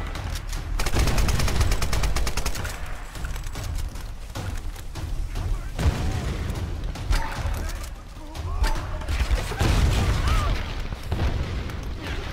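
Rapid gunfire from the Tomb Raider video game, with dense bursts of shots and booms continuing across the stretch while a voice talks over parts of it.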